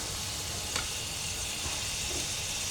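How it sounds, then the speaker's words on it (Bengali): Shrimp fry in a pan with a steady, close hiss and crackle that runs evenly the whole time. "তো চিংড়িগুলোকে ভেজে তারপর উঠে নিয়ে আমি লাউটা দেব তো চিংড়িটা ভাজা হয়ে গেছে"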